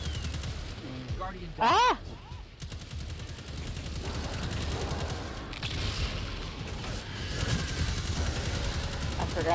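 Player's gun blasting in the Destiny 2 Witch Queen campaign, dense bursts of video game gunfire filling the clip, with a brief shouted exclamation near the start.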